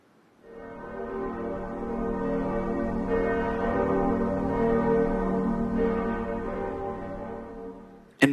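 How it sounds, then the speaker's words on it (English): Church bells ring continuously for several seconds, a rich layered peal with sustained overtones, moderately loud and steady. "Church bells can remind us of the passing of time or perhaps our own mortality."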